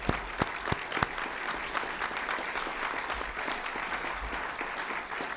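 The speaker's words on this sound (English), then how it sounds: "How about a round of applause for our speakers today?" Audience applause fills a National Press Club luncheon room for the speakers, a steady dense wash of clapping with a few sharp individual claps standing out near the start, sustained throughout at moderate distance.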